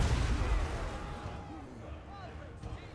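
Artillery hurls rocks across a Total War: Warhammer 2 battlefield, loud booming impacts rolling and fading over a clamorous fight, with people talking throughout.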